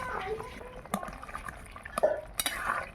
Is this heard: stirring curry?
yes